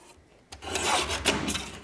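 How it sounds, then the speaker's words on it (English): A sheet of card trimmed on a paper trimmer, a short sliding, scraping cut that starts after a quiet moment and runs close and steady for over a second. "So you're just sort of trimming that edge off."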